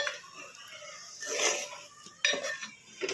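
A spoon or spatula scraping and clinking against a pan while vegetable curry is stirred slowly from the sides, with a few sharper metallic knocks and soft swishes, close by and without talking.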